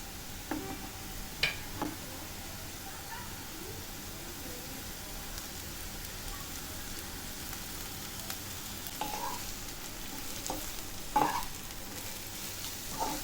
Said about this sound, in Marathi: तिखट चांगलं या भाजीमध्ये मिक्स झाला पाहिजे व्यवस्थित परतून घ्यायची